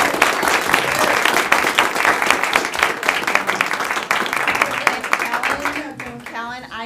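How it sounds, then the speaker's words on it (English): A round of applause fills a town board of trustees meeting room, dense clapping from the audience that tapers off as a speaker begins talking at the end. "So let's give her another round of applause."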